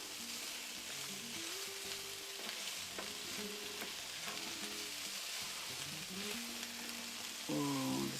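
Vegetables, onions among them, sizzle steadily in a pan with repeated scraping and stirring strokes throughout, ending in a louder clatter near the finish; no one speaks.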